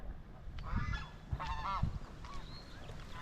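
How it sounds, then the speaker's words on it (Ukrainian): Several geese honk nearby in short, harsh calls, a few separate bursts against quiet outdoor background by the Tisza river in a park. "Привіт, гуси, що наплавались."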